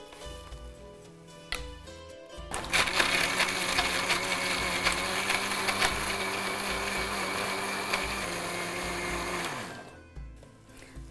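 A mixer grinder whirs loudly as it blends a jaggery drink with water, starting abruptly after a short pause, running steadily for about seven seconds, then winding down and stopping.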